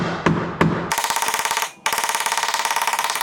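A hammer strikes metal on a CRX build, first two sharp ringing blows, then a fast steady run of metallic hits with a short pause, loud and close, with no talk.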